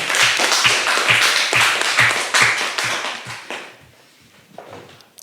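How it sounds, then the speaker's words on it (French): A small audience applauds the guests with lively clapping that fades after a few seconds, leaving a few scattered claps and quiet room sound. "On peut les applaudir, je pense."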